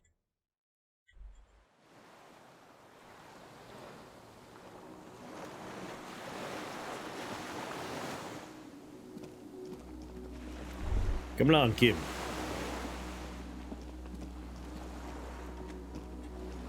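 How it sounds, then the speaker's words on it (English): Waves lap steadily around a small wooden skiff moored by a dock in the video game Disco Elysium, with soft surf and wind throughout. Someone speaks briefly partway through, and a deeper low rumble swells near the end. "The skiff is swaying on the waves by the dock."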